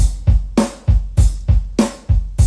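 A punchy electric bass riff through a Ragnarok preamp pedal, a steady run of plucked low notes with sharp attacks about every third of a second, played alone and close.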